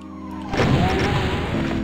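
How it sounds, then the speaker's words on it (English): A violent explosion in the video game Doom bursts in with a loud crash and booming roar that lingers and rumbles for over a second. "Wow, that was a violent explosion."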